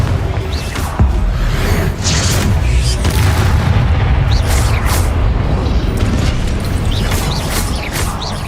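Confringo blasting spells go off in the Hogwarts Legacy video game, as repeated booming explosions and crackling bursts over a dense, loud battle din.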